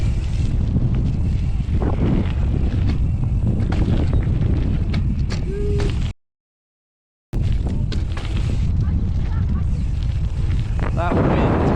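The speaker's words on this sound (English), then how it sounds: "That wind made it sketchy." Gusty wind roars steadily across an outdoor terrain park on a windy day during snowboard jib tricks, broadband and loud throughout, cutting to brief silence midway before the same rushing buffeting resumes.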